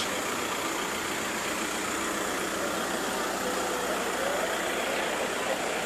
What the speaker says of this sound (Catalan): Començo a sentir un motor.